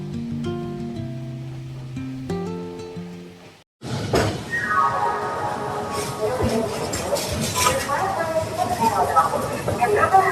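A few seconds of music give way to the rumbling, clattering approach of the Kamrup Express pulling into a platform at Howrah station, with squealing brake tones rising over the steady rolling noise.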